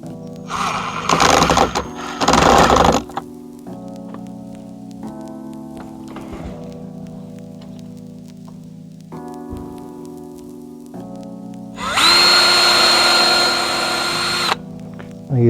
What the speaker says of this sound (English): I'm just going to screw this first one on without the hose there a little bit